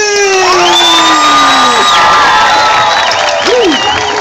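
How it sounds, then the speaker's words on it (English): A large crowd erupts in loud, continuous cheering, whooping and shrieking at a live show, voices rising and falling in long swoops, with light clapping underneath. "we want everybody clap their hands and make some noise"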